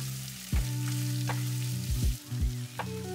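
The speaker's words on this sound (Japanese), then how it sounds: "十分に加熱したら玉ねぎを加え炒めていきます。" Chopped onions hit hot salad oil in a deep pan over strong medium heat, a steady close sizzle broken by a few louder pops and clatters as they are stirred, with a low tonal hum running underneath.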